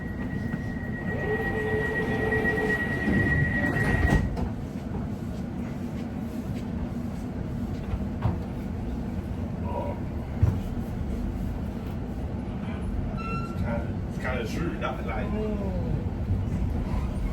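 A London Overground Lioness line train to Watford Junction rumbles steadily from inside the carriage, with a low continuous drone, brief tonal whines and occasional knocks as it runs along the track.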